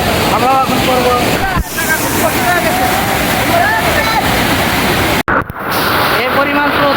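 Strong water current rushing through the Raotara sluice gate in Shahjadpur, Sirajganj, a steady broadband roar that fills the scene while people talk and shout over it, with a brief wind buffet near the end.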